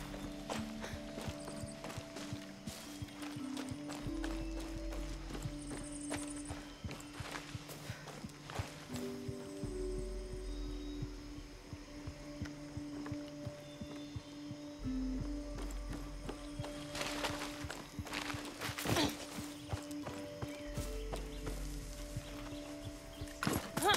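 Rhythmic hoofbeats of a horse walking and trotting in the video game Far Cry 6, close and clear, over sustained electronic music tones with a brief whinny-like call.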